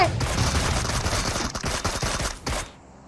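Dense rapid gunfire in PUBG Mobile, a loud sustained fusillade of overlapping shots that runs for nearly three seconds before cutting off abruptly.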